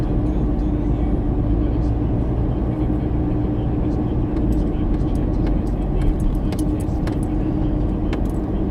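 Car driving along Gap Road toward Sunbury, a steady close engine and tyre rumble with constant road noise throughout, no breaks or changes.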